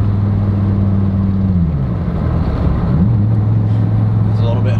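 A car engine hums steadily while driving, its pitch dropping and then settling lower through a downshift, with people talking over the loud, continuous drone.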